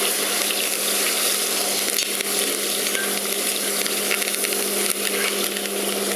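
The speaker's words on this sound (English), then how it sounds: "We're just going to stir this around, get a little color on the vegetables. Sear that pork up real well." Pork and vegetables sear in a hot pan with a steady, dense sizzle that runs continuously and fairly loud, with faint scrapes of stirring now and then.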